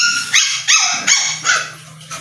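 A five-month-old female toy poodle at a pet market gives five sharp, high yapping barks in quick succession, close and loud.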